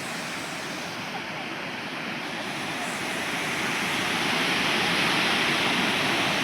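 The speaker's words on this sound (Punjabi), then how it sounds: "ਪਾਣੀ ਦੀਆਂ ਛੱਲਾਂ ਬਹੁਤ ਵੱਡੀਆਂ ਉਹ ਦੇਖੋ" Big surging river water at Harike Headworks roars as a constant dense rush, close and loud, swelling slightly stronger in the second half with no clear voices over it.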